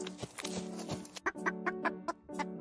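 A cartoon rooster clucking in quick, repeated bursts, loud and close with no speech over it, each cluck short and sharp in a choppy rhythm.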